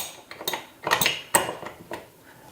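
Metal meat grinder parts, a knife and a cutting plate, clink and clatter as they are handled and fitted together, with several sharp close metallic knocks in quick succession.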